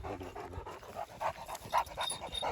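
A dog pants rapidly and steadily close by, quick breathy huffs in an even rhythm with no talking.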